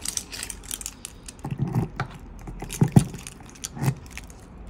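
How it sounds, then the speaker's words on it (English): Keys jangle and rattle in a hand up close during a handover of an AutoQuest 400RL caravan, with soft metallic chinks and a few sharper clinks, heard alone. "I'll grab the keys."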